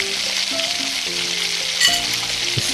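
Whole spices — bay leaf, cinnamon, cardamom, cloves and dried flower buds — frying in oil in a pan on medium flame for egg biryani, a steady close sizzle with occasional stirring clinks and no talk.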